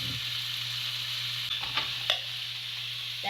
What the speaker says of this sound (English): That's how you saute your vegetables.